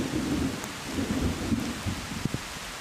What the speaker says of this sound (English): As rain falls through the unfinished roof, work comes to a halt.